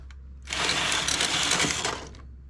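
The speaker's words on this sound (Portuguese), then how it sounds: "Novamente, a máquina selecionou várias agulhas." A knitting machine carriage sweeps across the needle bed to select needles, with the second, fancy yarn in the B feeder: a loud, dense mechanical rattling and whirring lasting about a second and a half, alone.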